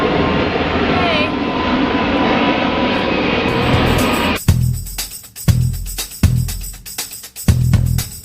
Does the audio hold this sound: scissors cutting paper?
no